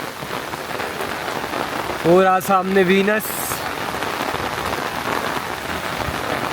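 Heavy monsoon rain pours steadily in Manali, a dense, loud hiss of drops on surfaces throughout, with someone speaking briefly over it partway through.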